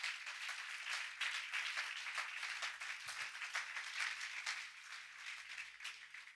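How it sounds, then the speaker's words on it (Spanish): A church congregation claps after a Spanish-language sermon, a quiet, fairly steady patter of many hands heard from a distance, with a faint low hum beneath. "Dale un aplauso a Jesús."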